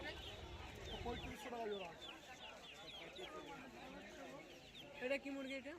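Fighter chickens at the Galif Street pet market in Kolkata cluck steadily in a crowded chorus, with a louder burst near the end and people talking underneath.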